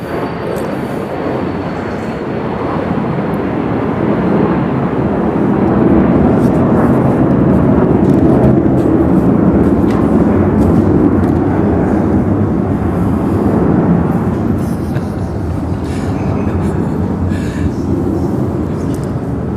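A train rumbles past, a broad low roar that swells to its loudest in the middle and then slowly eases off, heard alone at moderate distance.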